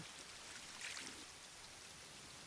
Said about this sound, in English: You don't like the rainy weather?